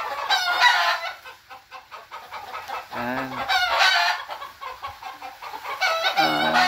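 Several chickens cluck and roosters crow repeatedly, close and loud, overlapping in a busy barnyard chorus.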